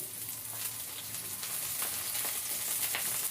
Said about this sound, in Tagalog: Naglagay na ako ng dalawang spoon ng mantika. So, lalagyan na natin yung ating bawang